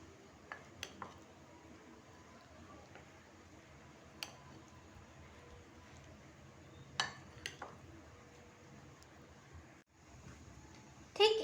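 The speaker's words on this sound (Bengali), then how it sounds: "কর্নফ্লাওয়ার আর ময়দাটাকে চিকেনের সঙ্গে ভালো করে মিশিয়ে নিতে হবে" Chicken pieces being mixed by hand with cornflour and flour in a bowl for chicken sticks: quiet squishing and a few sharp clinks against the bowl, soft and close, with brief louder knocks near the end.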